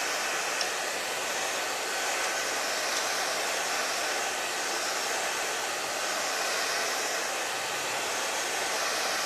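A hair dryer blows steadily on a painted, antiqued and glazed furniture finish, giving a loud, constant whooshing roar that runs unbroken from start to end with no talking.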